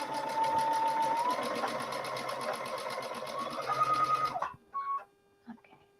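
A sewing machine runs a back stitch in a steady, close, continuous whir of rapid needle strokes, then stops abruptly, leaving a few faint clicks and handling noises.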